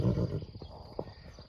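Horses shuffle and snort nearby, with a short whinny-like call and scattered low thumps, fairly quiet overall.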